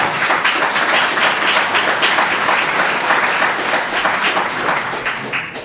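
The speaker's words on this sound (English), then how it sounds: "We can give one last round of applause." An audience at a standards conference session applauds steadily and loudly throughout, a dense continuous round of clapping that tapers slightly at the end.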